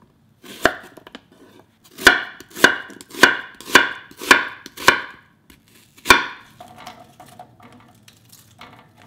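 An onion being sliced with a knife on a cutting board: about eight sharp, evenly spaced chops, close and crisp, then quieter shuffling as the pieces are moved.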